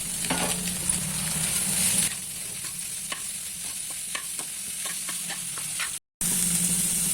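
Fried egg with carrot, green chilli and onion cooks in a pan, giving a steady sizzle punctuated by repeated stirring clinks and scrapes up close, broken by a short gap near the end.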